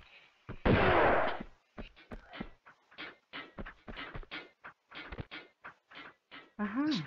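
Shotgun fire in the video game Tomb Raider 2: one loud, booming blast, then a long string of short, separate bursts of speech and game noise. A voice talks near the end.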